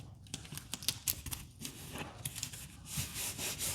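Tape is pulled and pressed by hand to fix a paper template for a Fleximounts folding storage rack onto a garage wall, giving soft scattered rubbing and crinkling strokes close by with no talk.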